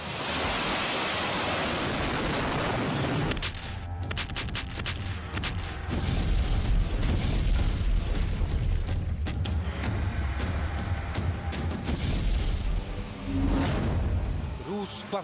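Ukrainian army rocket launchers firing at Russia one after another: a loud, rushing roar and repeated heavy whooshing blasts, with booms rumbling through, while a voice talks over much of it.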